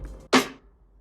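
First of two layered snare samples for a gritty gospel-sample beat: a single sharp, noisy snare crack arriving after a brief quiet lead-in and decaying quickly, close and alone.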